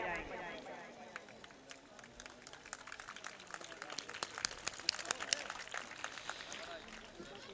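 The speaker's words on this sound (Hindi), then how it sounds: "फीता करते ही ताली आप लोग बजाएंगे।" Audience applause at a mushaira poetry gathering following a ribbon cutting, scattered claps building into a steady patter of many hands at moderate distance, with some talk mixed in.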